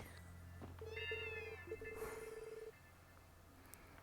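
A cat meows in the video game Trails from Zero, a couple of drawn-out, rising mews over a steady low hum alongside short electronic tones, faint and without talk.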